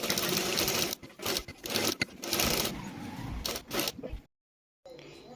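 A sewing machine runs in several short bursts of rapid stitching along a kurti neckline, with brief pauses between runs and a moment of silence near the end.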